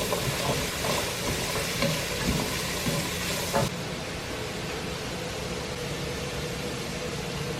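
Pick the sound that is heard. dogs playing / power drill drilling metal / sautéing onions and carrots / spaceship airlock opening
sautéing onions and carrots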